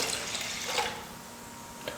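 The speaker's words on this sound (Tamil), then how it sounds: "அதனால் கொஞ்சம் எக்ஸ்ட்ரா தண்ணி சேர்த்துக்கிறேன்." Extra water poured into a pot for hotel-style ven pongal, a steady broadband splash and trickle close by, running on for about two seconds and tapering slightly toward the end, with no voices.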